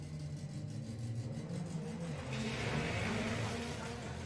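A Ford Focus and a Vauxhall Corsa accelerate hard off the line in a drag race at a sports compact shootout, engines rising in pitch as they pull away, steady and moderately loud.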